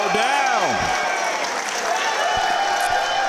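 Wrestling crowd at the Durham Armory cheering and applauding after a springboard moonsault to the outside, a sustained roar of clapping and shouting throughout, with a commentator's voice over it.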